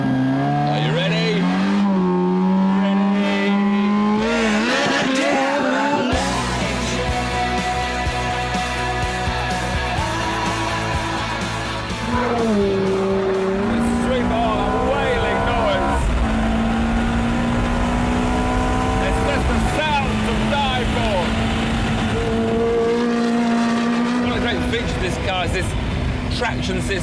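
A car engine held at 5,250 RPM for a launch control start roars loud and close, its pitch climbing and sustained through the clip with talk over it.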